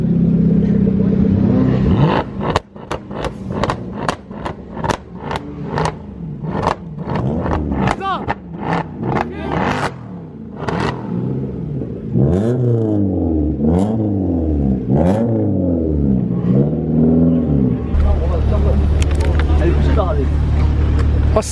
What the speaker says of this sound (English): Rev this up, man.